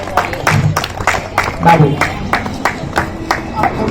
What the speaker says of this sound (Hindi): मैं तालियों के साथ उनका स्वागत कीजिए